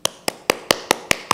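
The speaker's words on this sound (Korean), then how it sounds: "제가 위로와 격려의 박수를 보내겠습니다" A single person claps in a steady rhythm inside a church, seven sharp, evenly spaced claps close by, with no other sound between them.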